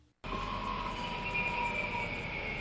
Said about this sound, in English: This is the sound of the motor powering the regenerative brake.